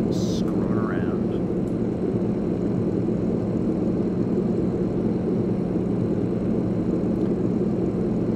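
A Yak-18T propeller plane engine in X-Plane 11 drones steadily, loud and constant throughout with an even buzzing hum, plus a brief chirp near the start.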